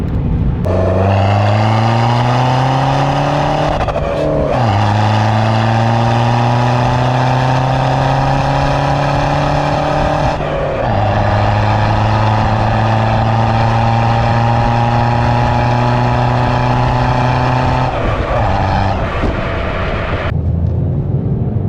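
A Ford Focus MK2 diesel with a stage 3 tune accelerates hard through several gears, its loud engine note climbing steadily with short dips at each shift, close and continuous throughout.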